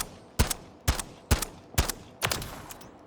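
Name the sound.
gunfire at target practice, from the video game Call of Duty MW3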